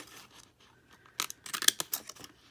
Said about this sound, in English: on these scallop scissors, I'm just going to start cutting and just line it up as I go